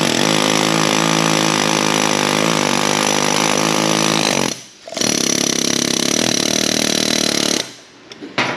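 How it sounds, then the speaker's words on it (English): A pneumatic air hammer chatters loudly in long continuous bursts, with two brief pauses between runs, close up and alone, driving out a stuck suspension part on a Ford F250/F350 6.7. "Let's see if the air hammer can just run this thing off."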